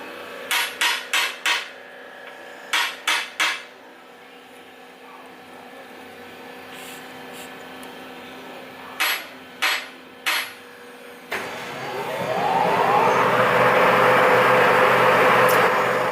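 Rotary engine oil injectors from a Mazda RX-7/RX-8 rebuild are tapped in quick clusters of crisp metallic clicks and knocks, close and dry, before a steady broadband whooshing noise rises and fills the final seconds.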